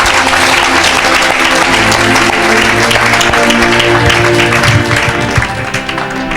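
A church congregation at a prophetic healing service claps loudly and continuously, a dense roar of hands with sustained music underneath, holding steady throughout and easing slightly near the end.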